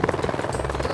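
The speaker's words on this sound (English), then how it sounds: "thank you for taking Moe on a helicopter ride" A helicopter's rotor chops steadily close by, a loud rhythmic whirring thump with no voices.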